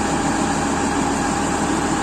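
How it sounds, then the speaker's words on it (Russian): The diesel engine of an Oxbo 2485 harvester idles with a constant, loud, even rumble and a faint high whine, steady throughout with no change in pitch. "Я его оставил заведомо с работающим двигателем, чтобы не потерять температуру гидравлического масла."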